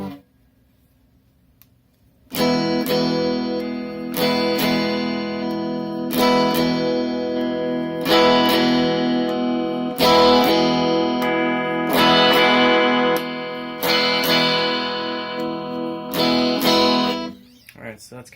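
A Fender Modern Player Telecaster played on its neck pickup through a Crimsontone M68 tube amp: after a quiet start, loud strummed chords ring out in a repeating pattern, each sustaining with amp reverb and effects before the next strum, ending abruptly.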